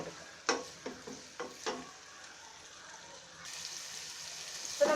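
Small pieces of cinnamon bark crackle and sizzle in hot oil in a pan for Kerala-style chicken curry, with sharp bursts of sputtering early on, then a steadier, louder frying hiss toward the end.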